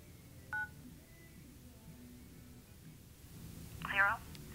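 A telephone number being dialed with DTMF tones to reach an airport ATIS line: a short tone near the start and a quicker run of beeps later, faint against a steady background hum with talk-like murmur.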